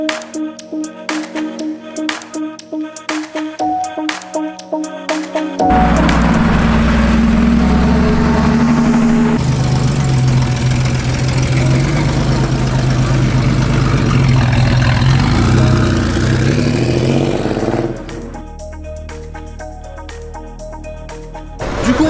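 A Porsche Boxster with its 2.7 engine, the smallest in the range, idles loud and close, a steady throbbing hum that rises in level partway through and then settles back, with no talking.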